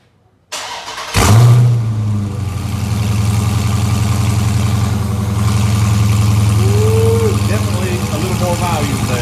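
A Dodge Charger engine with cat-delete exhaust pipes cranks and fires up, then settles into a loud, steady exhaust idle with a deep, throaty rumble, heard from behind the car; a voice speaks faintly near the end.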